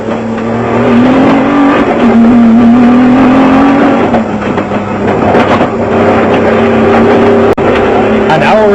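Off-road race trucks, a Nissan and a Chenoweth, at the 2001 Lichtenburg off-road race in South Africa, a loud sustained engine roar that holds steady then shifts pitch as the vehicles pass close by, with a brief sharp knock near the end.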